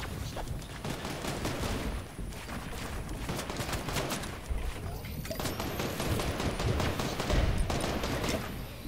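Rapid video game gunfire shooting through walls, sustained bursts of automatic shots crackling steadily for several seconds at moderate volume.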